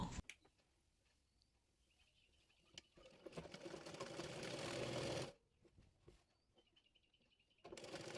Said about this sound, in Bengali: এরপর প্লাজোটির কলি সেলাই করে নেব।